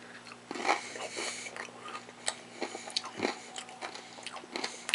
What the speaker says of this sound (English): Let's try it out. And it's on waffle fries from Walmart.